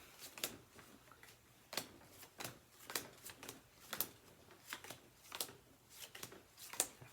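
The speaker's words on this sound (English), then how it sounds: "if I pull out some white cards here and shuffle these up a little bit." A deck of Cards Against Humanity white cards is shuffled repeatedly, giving sharp riffling bursts at a steady rhythm, close and fairly quiet.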